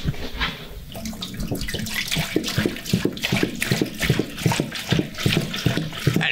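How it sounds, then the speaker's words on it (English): Water pours from a plastic jar into a saucepan, making a continuous close splashing and gurgling stream with rippling surges. "when you see me pour the water inside the saucepan"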